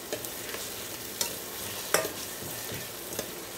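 Peas, onion, tomato, ginger and green chili fry in a pan, a steady dense sizzle with occasional stirring scrapes and clinks, close and continuous with no talk.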